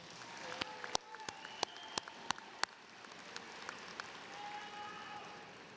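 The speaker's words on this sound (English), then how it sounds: "please give your parents and family members a round of applause" A graduation audience at Withrow High School gives a round of applause, a soft, steady patter of many hands, with several sharper, louder claps standing out in the first half.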